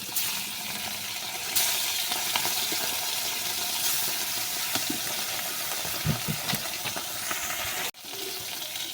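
Tilapia fish, rubbed with salt and turmeric, frying in oil in a wok, a constant loud hiss and crackle with occasional small pops, briefly cut off near the end before resuming; no talking.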